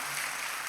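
A church congregation applauds during a live-streamed worship service, a steady, dense wash of clapping that lasts under a second at moderate distance.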